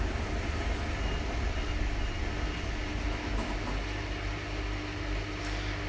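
A Hotpoint HE7L492 tumble dryer drum spinning unbalanced at 300 RPM, giving a continuous low rumbling hum with a faint rattle, steady and alone.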